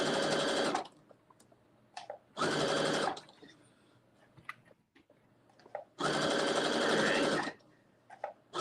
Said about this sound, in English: I'm working on the second half now of sewing it onto our waistband.